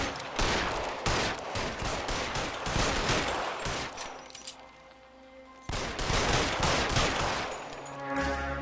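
Gunfire in the video game L.A. Noire: loud bursts of shots in rapid volleys with brief pauses between them, some rattling like automatic fire, with no speech.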